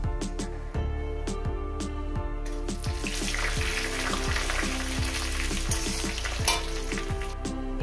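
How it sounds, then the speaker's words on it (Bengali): Cumin seeds crackle in hot oil, a dense up-close sizzle that runs the whole time, with sharp, regular clinks and scrapes of a utensil against the pan. "আর দিয়ে দেবো জিরে। দিয়ে দিলাম। একটু কয়েক সেকেন্ড একটু ভেজে নেব।"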